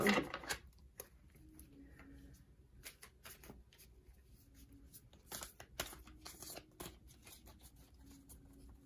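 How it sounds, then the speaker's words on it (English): A thick, hard-to-shuffle tarot deck being shuffled: soft, irregular card riffles and slaps come in scattered bursts, quiet and close, with a little talking. "This deck is really hard to shuffle."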